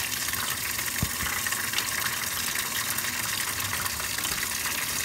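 A Speed Queen washing machine fills with water for a rinse, a steady broadband gush of inflowing water running continuously at close range.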